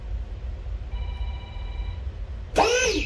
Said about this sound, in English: And now my phone's ringing.